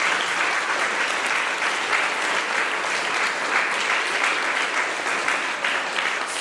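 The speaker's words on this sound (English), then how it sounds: "Round of applause." An audience claps loudly and continuously at a Christmas lights switch-on event, a full, even wash of many hands applauding with no speech over it.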